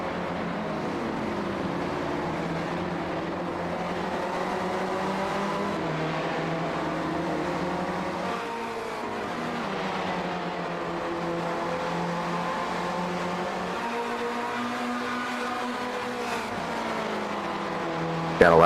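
Race cars roar around an SCCA road course and oval at Las Vegas, engines droning continuously with shifting pitch as they pass and accelerate, loud and steady throughout, with a sharp burst near the end.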